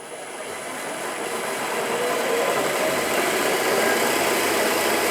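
A machine spindle motor driven by a VFD spins up toward about 1700 RPM, a steady whirring hum that rises and builds in loudness over the first couple of seconds, then holds close and constant with no talking.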